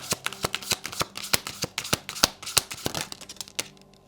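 A deck of oracle cards being shuffled by hand, a close run of sharp, quick riffling clicks and flutters that comes in bursts and fades at the end.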